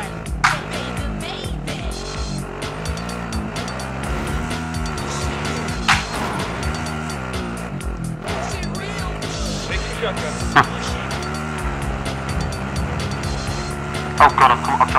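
Video game car engine droning and shifting in pitch as the vehicle is driven, with a steady revving hum, tire noise and occasional bumps, heard under constant talk from several players.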